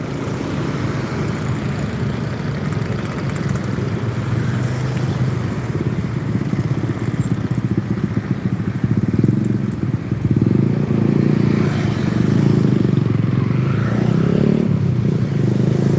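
Steady traffic at a T-junction in Palembang, Indonesia: motorcycles and cars rumble and hum past continuously, engines droning loud and close with occasional revving swells, no talk.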